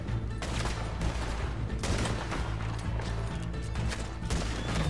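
Gunfire in Red Dead Redemption 2 during a bank robbery mission: dense, continuous volleys of shots and mechanical clatter lasting throughout, loud and close over a steady low game rumble, with no talking.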